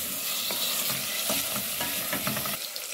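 Mushrooms and onions fry in a pan for a creamy chicken lasagna, a constant sizzle broken by repeated scraping stirs of a spoon at an uneven, busy rhythm, close and fairly loud.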